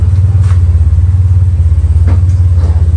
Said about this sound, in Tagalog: ibig sabihin naka-start na yung makina